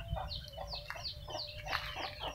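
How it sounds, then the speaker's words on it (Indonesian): A backyard flock of chickens near rice fields, just fed, clucks in quick overlapping bursts, close and busy, over a steady low background hum. "kita lihat ayamnya baru dikasih makan"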